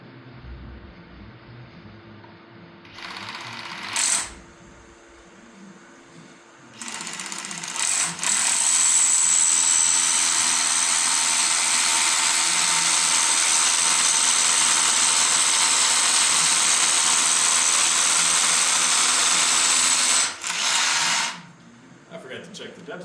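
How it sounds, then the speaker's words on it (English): A power drill bores through a new LVL beam during a beam replacement in a historic 1860s cottage, with a short burst near the start and then a long, loud, steady whine of about twelve seconds before it stops. "So we'll go ahead and drill this, and then we're finally going up."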